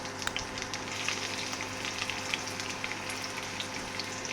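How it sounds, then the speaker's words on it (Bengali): Chopped onions fry in hot white cooking oil for a red lentil dal, producing a constant, dense sizzle with fine crackling pops and no talk. "তেল গরম হওয়ার পরে দিতে হবে আগে থেকে কেটে রাখা পেঁয়াজের কুচিগুলো"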